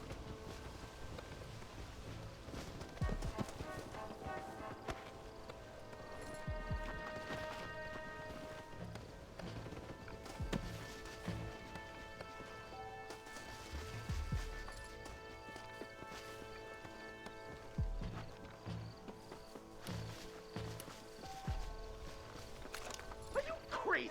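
Horse hooves gallop in a steady clip-clop rhythm in Red Dead Redemption, moderately loud beneath a sustained musical score, with wind noise and characters talking over it.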